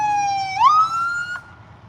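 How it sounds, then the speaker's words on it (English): An ambulance siren sweeps through a parking lot, a loud wailing tone that holds steady then swoops upward and settles higher, close by, with no talk over it. "Ambulance just cut through the parking lot."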